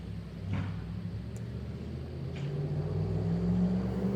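A souped-up car passes outside as a low, steady engine rumble that slowly swells toward the end, heard at a distance without any talk.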